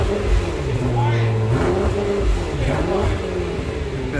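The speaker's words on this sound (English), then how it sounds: "They give a little rev, just a little bit, man." A BMW M6 engine blips through a closed-valve exhaust with a restrained, muffled rev that rises and settles, steady idle rumble throughout and voices talking over it.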